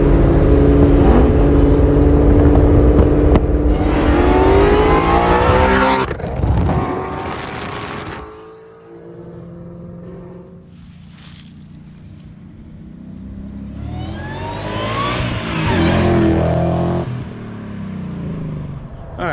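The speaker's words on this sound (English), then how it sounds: "You saw a little bit of how it worked and how it sounded with everything going on with the supercharger kit." A car fitted with a Kenny Bell supercharger revs and accelerates loudly, with rising harmonic sweeps and whine, dipping to a quieter idle midway before surging hard again.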